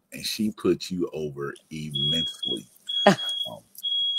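A kitchen smoke alarm set off by cooking emits a thin high tone that sounds between and after phrases of continuous close speech, faint and partly masked by the voice.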